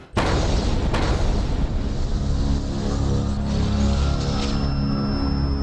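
A deep, heavy bomb explosion in Old Delhi booms at the start and its rumbling roar sustains and slowly fades, loud and enveloping.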